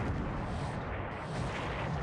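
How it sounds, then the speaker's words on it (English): An 8-inch naval shell strikes in the War in the Pacific strategy game, a dense rumbling explosion boom that fills the whole short moment at moderate loudness. "That's a hit. Oh! An 8-inch shell."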